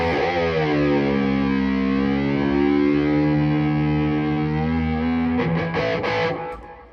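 Electric guitar played through a Fender Super Sonic 22 combo amp with the gain raised to 8, giving a loud, distorted, sustained chord with effects that rings for several seconds before a few choppy strums and a fade.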